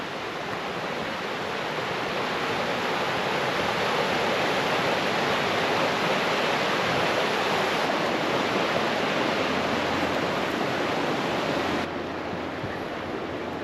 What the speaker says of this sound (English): I'm getting close to rushing water. I can hear it.